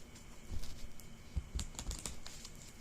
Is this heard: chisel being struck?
no